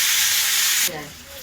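Green chili, ginger and tomato paste hitting hot oil in a pan, a loud bright hiss that cuts off abruptly partway through, leaving a softer low bubbling fry.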